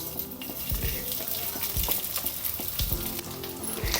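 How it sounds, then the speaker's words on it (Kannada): Ghee and poha fry in a hot pan, making a steady close sizzle with crackling and occasional stirring scrapes throughout. "ಬಾಣಲಿ ಸ್ವಲ್ಪ ಕಾದ್ಮೇಲೆ ನಾನಿಲ್ಲಿ 1 ಸ್ಪೂನ್ ಅಷ್ಟು ತುಪ್ಪ ಹಾಕ್ಕೊತಿದ್ದೀನಿ. ಸ್ವಲ್ಪ ಅವಲಕ್ಕಿ ಹಾಕೊಳ್ಳೋಣ."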